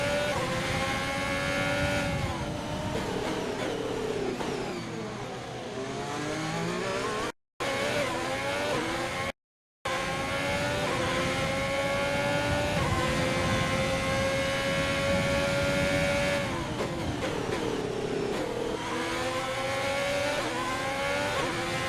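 A Ferrari Formula 1 car on a street circuit in the racing game F1 2020 screams through repeated upshifts and downshifts, loud and close, the engine pitch rising and falling with two brief dropouts.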